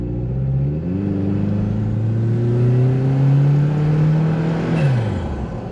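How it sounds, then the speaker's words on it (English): A Toyota 4Runner's turbocharged engine revs up close, pitch climbing through the gears with a whirring turbo note, then dropping off as the throttle is released. "Turbo's working."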